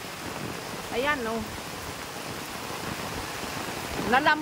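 Strong floodwater rushes beside a house in a Philippine province during heavy rain, a continuous broadband roar of flowing water running throughout, with a person speaking briefly over it near the start and end.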